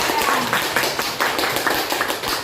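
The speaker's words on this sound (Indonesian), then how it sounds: "Tepuk tangan untuk kalian semua." A class of children clapping hands together in a classroom lesson, a brief burst of moderate claps mixed with chatter and a teacher's voice nearby.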